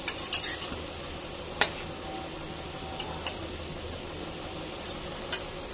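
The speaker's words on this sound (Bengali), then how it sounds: "এবার কড়াইয়ের মধ্যে তেল দিয়ে তেলটা গরম হলে আলুটা ভেজে নিয়েছি" Potatoes fry in mustard oil in a wok with a low, constant sizzle, broken by about six sharp metallic clinks and scrapes of a spatula against the pan.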